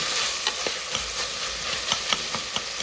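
Three large tomatoes frying in a pan for tomato rice, a dense even sizzle broken by quick spatula scrapes at a regular pace, no voices.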